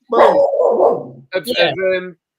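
A dog gives two loud, close barking bursts, the first drawn out and the second shorter and yelping, with a brief gap between them.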